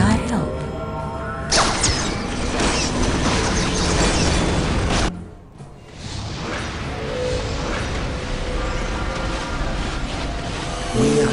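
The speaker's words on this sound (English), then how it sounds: "We are under enemy fire." Dense enemy gunfire and explosions in the video game Dawn of War: Eldar campaign, loud rumbling booms layered over continuous battle noise, with a brief dip in the middle before the din resumes.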